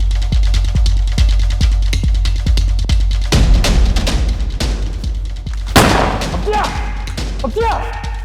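Gunfire in a shooting terror attack: rapid volleys of sharp, loud shots crackle throughout, broken by two heavy booming blasts, with faint voices mixed in underneath.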